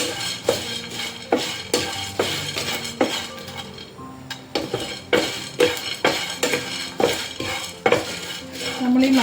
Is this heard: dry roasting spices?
yes